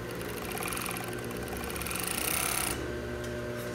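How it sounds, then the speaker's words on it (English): A serger overlocks the edges of a dress lining with a rapid, whirring mechanical stitch. It runs close and steady, speeds up briefly, and then stops abruptly near the end. "So I like to clean it with the serger"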